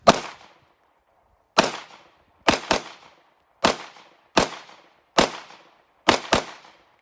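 A Ruger Security 9 pistol fires out the rest of its magazine: ten sharp, loud shots at uneven intervals over about seven seconds, several coming in quick pairs, each ringing briefly before near-silence.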